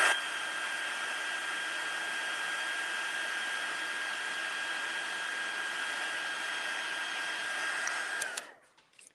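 A heat tool blows hot air over a shaped paper card, making a steady, close whirring hiss with no voices that runs unbroken and then cuts off abruptly near the end.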